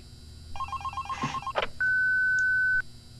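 A telephone in the horror video game Five Nights at Candy's rings, first as a burst of electronic trills and then as one long steady tone, loud with no voices.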